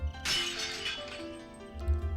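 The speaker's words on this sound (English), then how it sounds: "I smashed the whiskey bottle in my hand against the telephone pole in a burst of rage" A whiskey bottle shatters against a telephone pole in the Higurashi visual novel game, a single loud burst of breaking glass that rings and fades over about a second before a low thud follows.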